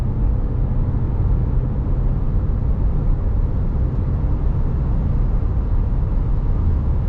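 A car engine with a transmission holding fifth gear hums as it accelerates, a steady, loud, broad drone of engine and road noise with no pauses.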